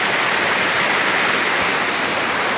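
A waterfall pours in a loud, steady, close rush of broadband water noise that stays constant and unbroken throughout, with no voices over it.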